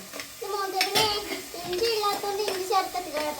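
Curry stirred in a metal cooking pot, with scraping and clanking of a spoon against the pot in irregular strokes, close by, while people talk over it.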